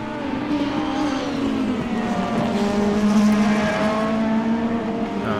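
A BMW race car in a sim racing video game drones steadily, its engine note sliding and shifting in pitch as it exits a corner, loud and continuous with no talk.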